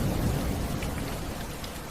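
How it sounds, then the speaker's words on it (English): Steady rain and a thunderstorm beating against windows, a continuous dense wash of drops with low rumbling underneath, even and unbroken throughout. "Rain tapped gently against the windows behind both of you."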